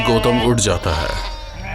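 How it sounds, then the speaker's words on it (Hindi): Sheep bleat loudly and repeatedly, caught up in a sudden strong wind and dark whirlwind, with someone speaking over the wavering cries. "भेड़ों की आवाज सुनकर"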